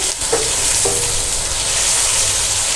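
Boiled boneless chicken roasting in a hot pan, a steady loud sizzle with a couple of brief scraping stirs near the start and no voices.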